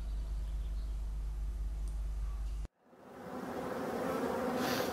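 Honey bees hum and buzz steadily at an opened Voirnot hive in a forest apiary in high season, a low drone cut off abruptly midway, then a brighter, busier swarming buzz rising again.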